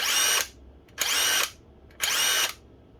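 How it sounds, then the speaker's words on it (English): An old Ryobi impact driver whirs in three evenly spaced bursts of about half a second each, loud and close, with quiet gaps between them. "not a bad drill actually. Impact driver, as to say."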